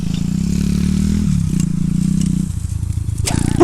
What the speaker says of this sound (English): Some guy is just driving with a motorbike here.